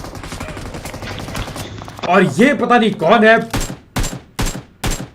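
Automatic M249 machine gun fire in the mobile battle royale game BGMI: several sharp, loud bursts of shots in quick succession near the end, following a stretch of talking.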